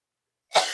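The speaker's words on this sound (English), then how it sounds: "I feel a cough coming on" A single abrupt cough breaks a moment of silence, close and fairly loud, trailing off into a breathy exhale.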